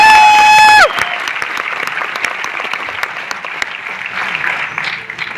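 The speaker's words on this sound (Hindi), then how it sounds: "चलो ताली बजाओ, आगे बढ़ते हैं" A short tone ends abruptly, then a seminar audience breaks into lively, close clapping that carries on steadily for several seconds at a network marketing success celebration in Noida.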